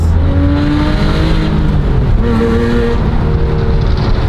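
A loud flat-six engine drones and revs steadily, its low, throaty pitch rising and falling slightly, with no voices.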